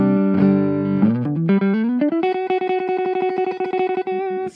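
An electric guitar through a small Orange Crush practice amp, a sustained chord followed by rapid repeated picked notes with a slight effect-laden buzz.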